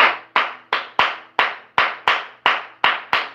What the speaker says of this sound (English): I just do the Charleston clap